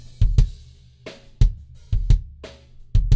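Kick drum in a mixing session with its SSL-style channel processing switched off, so the low end sounds boxier; several punchy, isolated hits in an uneven pattern, loud and close with no other parts playing.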